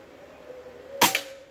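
A single shot from an orange Pajero Gun Gen 5 PCP air rifle fired outdoors in wind, one sharp crack near the end after a quiet stretch, close and loud with a brief tail.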